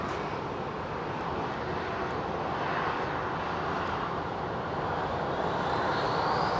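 A British Airways Airbus A380 arrives on Heathrow's northern runway, a broad continuous engine roar that stays steady and full and swells slightly as it nears, with no talking.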